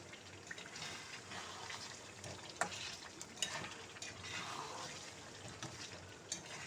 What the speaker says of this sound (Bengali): আলুটা দিয়ে আবারও খুব ভালো করে নেড়েচেড়ে এর সঙ্গে মিশিয়ে নেব।